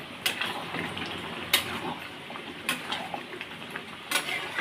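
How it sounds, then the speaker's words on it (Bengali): A spoon or spatula stirs food frying in a pan, giving soft scraping and a faint sizzle with a few sharp clinks against the metal, close by and moderately quiet. "দেখুন, একটু নাড়াচাড়া দিয়ে দিচ্ছি।"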